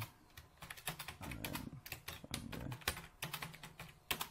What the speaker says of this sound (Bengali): যেই আমি কোনো টেক্সট লিখব